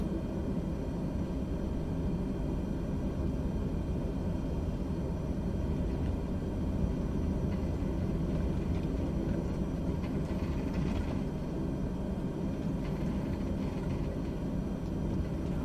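A heavy FedEx cargo airliner in Microsoft Flight Simulator throttles up on the runway, its engines roaring in a steady, dense, loud drone that holds throughout with no voices.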